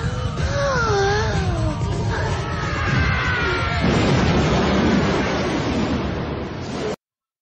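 A cartoon explosion in the film Cool World: a loud, sustained roaring blast under swooping music, building and then cutting off abruptly.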